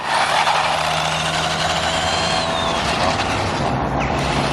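Tamiya Manta Ray radio-controlled car with a 15-turn motor racing past, a loud, steady high-pitched electric whine with a brief rising pitch sweep midway, no talking.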